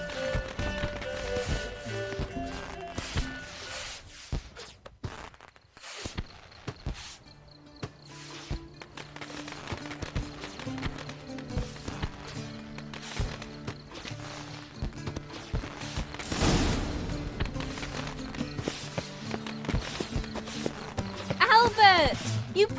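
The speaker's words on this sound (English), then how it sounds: "Saddled horses await in the stables." Hooves clip-clop in The Witcher 3, a horse walking and trotting under game dialogue and background music, with steady rhythmic beats throughout.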